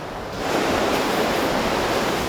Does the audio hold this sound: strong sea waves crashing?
yes